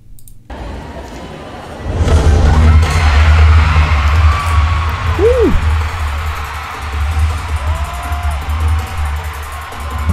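Large audience at a Billboard Philippines concert roaring and cheering for the headlining singer, a faint murmur that swells into a loud, sustained crowd noise with scattered shouts and whoops, heavy low rumble beneath.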